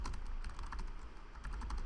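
Rapid typing on a computer keyboard for game input, a dense run of light clicking keystrokes close by, steady and alone without any talk.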